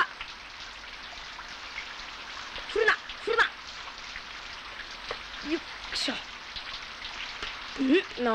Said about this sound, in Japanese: なんじゃこの雨は。